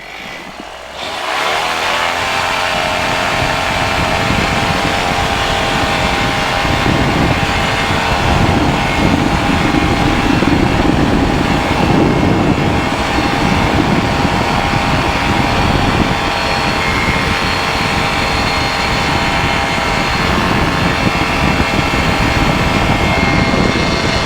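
Sub 70 flexwing microlight engine roaring up to full power for takeoff from a runway, a loud steady drone that holds constant and close throughout with no talk.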